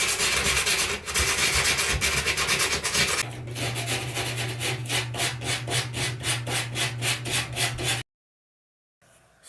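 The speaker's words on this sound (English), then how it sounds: "I'm gonna try to sand that down and see what happens" Sandpaper rubbed back and forth on a surface at home, loud close rasping strokes in a steady rhythm that speed up partway, then stop abruptly into silence.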